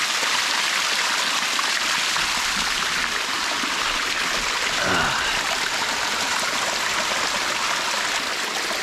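A waterfall in Thailand pours with a steady, dense rush of water, loud and close, with no break in the flow and no clear talk over it.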